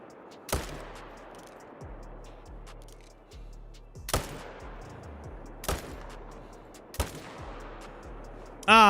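Four sharp, loud hunting rifle shots ring out in a hunting video game, spaced a few seconds apart, each followed by a rolling echo and mechanical bolt clicks, ending in a brief burst of noise.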